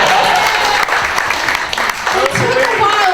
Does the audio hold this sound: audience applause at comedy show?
yes